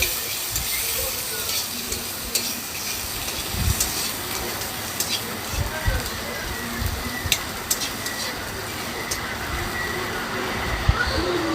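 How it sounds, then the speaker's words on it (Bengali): Steady crackling sizzle of chopped onions frying in hot oil on a clay stove, continuous and close, with occasional louder pops and a low background rumble. "পেঁয়াজ কুচি দিয়ে একটু ভেজে নিলাম"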